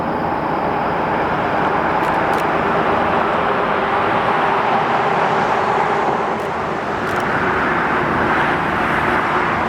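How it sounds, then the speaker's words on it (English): Highway traffic roars on the Pennsylvania Turnpike as a truck approaches, a loud, steady rush of engine and tire noise that stays constant throughout, with no talking. "We've got the truck coming head on towards us."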